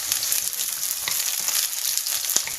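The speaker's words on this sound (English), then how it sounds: "You fry the onions down like you would on the Chinese king prawn curry video I did" Onions frying in a hot pan for special fried rice, a steady dense sizzle with scattered crackles and pops throughout, close and continuous with no talking.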